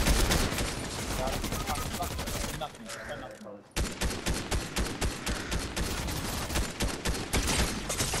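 Rapid bursts of gunfire from the video game Fortnite crackle loudly in dense volleys, break off for a moment, then resume in a quick repeated stutter.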